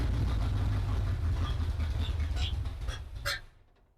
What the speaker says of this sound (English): I'm hitting the key right now